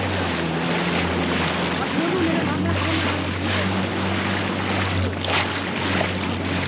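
Fast-flowing floodwater of the Khalil river rushes at the Korangi causeway as a constant broadband roar mixed with wind buffeting the microphone, loud and steady throughout, with a faint low hum underneath.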